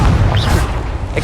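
A Confringo spell explodes in Hogwarts Legacy, a loud, close boom with a heavy low rumble that rolls on briefly and is capped by a bright burst at the end.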